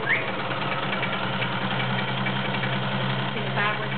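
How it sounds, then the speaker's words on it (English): A Kenmore convertible model 1340 sewing machine runs a stretch stitch, the fabric moving back and forth. A steady, close mechanical hum with a fast, even rhythmic chatter continues throughout. "And I'll put it in a stretch stitch so you can see it working there."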